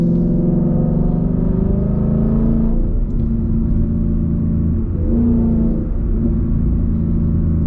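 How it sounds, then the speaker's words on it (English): A Ford Mustang GT in sport mode, with its engine downshifted through the paddle shifters. A loud, close, deep engine rumble holds steady throughout, with slight shifts in pitch near the middle and end. "going to activate the paddles, and let's drop a gear"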